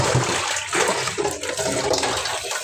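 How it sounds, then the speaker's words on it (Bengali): Cut cauliflower and potatoes washed in water, a close, continuous splashing and sloshing of water without pause. "এখন ভালো করে ধুয়ে নিচ্ছি"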